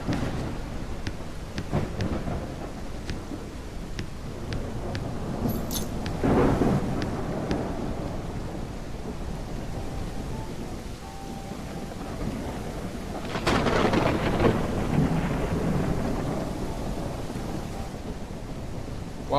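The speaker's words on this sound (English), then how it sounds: "Damn, it's raining like crazy." In the medieval nation-building game Noble Legacy, heavy rain hisses continuously while rolls of thunder rumble through, swelling louder at a couple of points before settling back under the steady downpour.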